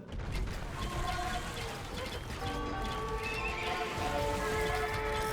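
A horse in the Age of Empires II game neighs and whinnies with clip-clop hoofbeats, mixed among clanking mechanical game effects in a steady, busy ambience.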